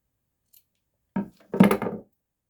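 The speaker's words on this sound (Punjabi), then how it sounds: "ਤੇ ਹੁਣ ਆਪਾਂ ਬਾਤੂ ਕੱਪੜਾ ਦਾ ਕੱਟ ਦੇਣਾ ਸਾਰਾ ਤੇ ਨਾਲ ਇਹਨੂੰ ਕੋਨਿਆਂ ਤੋਂ ਕੱਟ ਲੈਣਾ" Scissors cut extra cloth from the corners while making tassels for a sweater or blouse: one short snip, then a longer crunching cut, both close and crisp against near silence.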